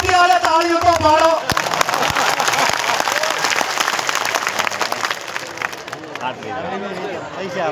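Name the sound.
crowd applause at a community gathering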